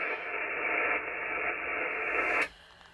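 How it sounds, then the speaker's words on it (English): Steady hiss of radio static marks the noise floor on the 40 meter band through a Yaesu 991A transceiver, holding evenly for about two and a half seconds before cutting off abruptly. "I was just on key for a second to let you see the noise floor on the clip here"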